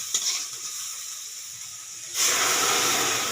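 Kulekhara greens dropped into a hot cooking pan: a quieter hiss first, then a sudden loud burst of steamy sizzling that holds steady to the end.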